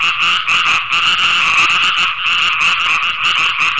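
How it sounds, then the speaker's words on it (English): A dense, unbroken chorus of many frogs calling from rice fields in northern Japan, a steady wall of overlapping croaks and trills heard close and loud, with no voices. "now that is the sound of frogs in rice fields in northern Japan."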